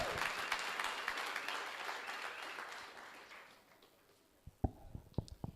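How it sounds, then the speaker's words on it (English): Workshop participants applaud themselves, dense clapping that fades steadily over about four seconds into near quiet, followed by a few scattered taps and knocks. "Please give yourselves a round of applause"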